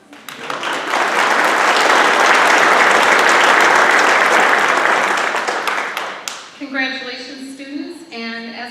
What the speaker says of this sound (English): And as we give you all a round of applause